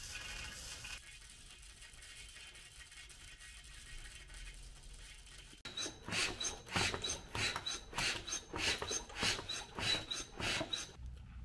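Harbor Freight manual fluid extractor drawing engine oil from an E36, heard as a rasping, rhythmic pump stroke that starts midway and repeats steadily, loud and close, with no talk.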